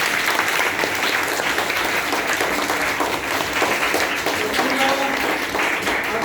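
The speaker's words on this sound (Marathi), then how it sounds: "एकदा या दोघांसाठी जोरदार टाळ्या" An audience applauds two children after their speeches, with continuous dense clapping throughout, loud and close, and no one speaking over it.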